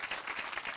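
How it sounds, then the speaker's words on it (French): Radio studio audience applauding a guest's entrance on a French history broadcast, a brief steady burst of clapping with no voices over it. "Et voici notre Lorena Martin sous vos applaudissements."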